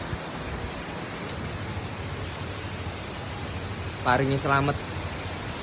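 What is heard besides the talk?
strong wind during a storm with heavy rain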